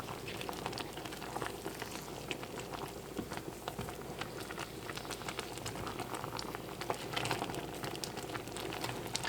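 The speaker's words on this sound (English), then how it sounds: "So we are at a boil and I can see that some of the cranberry skins are starting to split." Cranberry mustard boiling in a pot, a faint continuous bubbling and pattering simmer heard close, steady throughout with no speech.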